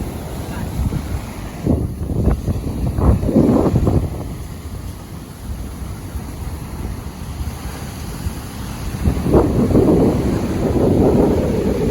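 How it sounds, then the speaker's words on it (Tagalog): Strong ocean waves surge and break along a beach, a steady roar mixed with gusty wind buffeting the microphone, swelling louder near the start and again toward the end. "sobrang lakas ng alon guys"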